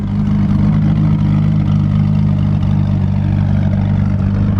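Hypercars such as a Porsche 918 and Maserati MC12 run flat out on a closed road, a loud, steady low engine drone holding constant without pause or obvious gear changes.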